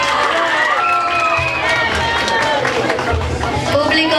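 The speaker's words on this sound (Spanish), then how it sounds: "Un aplauso también para ella," Audience applause and cheering for a contestant at a cholita pageant, a dense steady crowd sound running throughout with voices mixed in.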